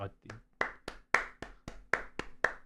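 A short burst of about ten sharp hand claps in a steady rhythm, close and fairly loud, from someone on a casual live-streamed painting and hobby chat show, with a brief murmur of talk at the start.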